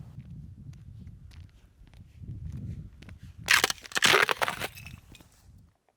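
Hiking boots crunch over frozen ground on a Scottish hillside, with soft steady steps at first, then a louder burst of crisp crunching and breaking for about a second before fading.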